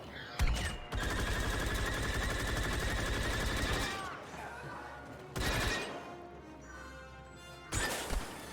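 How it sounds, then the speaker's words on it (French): Blaster gunfire rattles in Star Wars Battlefront II, with rapid repeated shots in a sustained burst followed by scattered explosive blasts and impacts, loud and close amid game effects. "Mais qui tire?"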